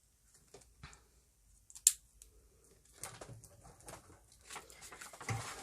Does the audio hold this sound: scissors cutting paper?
yes